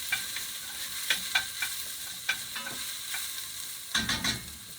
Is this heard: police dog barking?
no